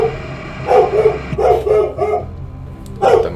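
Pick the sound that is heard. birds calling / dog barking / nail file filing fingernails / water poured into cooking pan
dog barking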